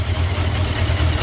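Honda 600 Transalp motorcycle engine idling just after starting in cold weather, a steady low rumbling throb continuing alone without talk.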